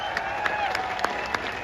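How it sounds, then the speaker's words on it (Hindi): A crowd at a protest at Jantar Mantar claps in a steady, dense wash of applause, loud and sustained, with a few sharper claps poking out. "एक बार जोरदार तालियां और बजा दो इनके लिए"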